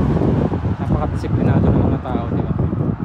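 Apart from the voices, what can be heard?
strong wind outdoors in Mount Pearl, Newfoundland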